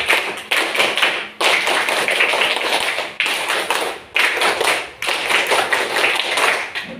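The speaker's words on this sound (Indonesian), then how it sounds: "Coba sekarang 2 kali tepuk pramuka." A classroom of young scouts performs the Indonesian scout clap in unison, loud rhythmic patterns of close, sharp hand claps in several bursts separated by brief pauses, with no talking.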